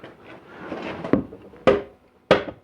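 A rubber mallet strikes a 700R4 transmission case, giving three sharp, dull thuds spaced about half a second apart, loud and close, after some faint background shuffling.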